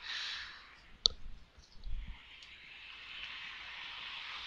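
A single sharp computer mouse click sounds close by, followed by faint rustling and quiet background hiss.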